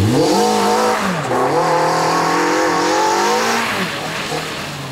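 A Peugeot 206 rally car on a muddy Burgundy dirt stage revs hard nearby, its engine note climbing through gear changes with loud, close, rising and dropping pitch.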